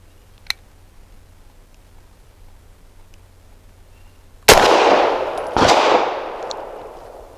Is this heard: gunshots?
yes